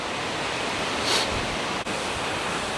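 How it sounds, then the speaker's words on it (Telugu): Steady broadband roar of the second waterfall at Dam Bri near Bao Loc, Vietnam, a dense continuous rush of falling water with no voices, holding even throughout with only a brief dip near the end. "ఇంకా రెండో వాటర్ ఫాల్ ఇక్కడే"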